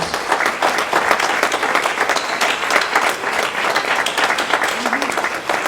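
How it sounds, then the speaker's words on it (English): An audience applauds police officers at a community event, a dense, sustained wash of many hands clapping at steady loudness for several seconds, with faint voices mixed in underneath. "So please, just give a round of applause for our police officers."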